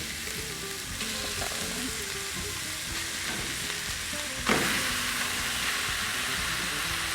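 Ground beef sizzles in hot oil in a big frying pan, a steady loud crackle with a brief stirring scrape partway through and no voices.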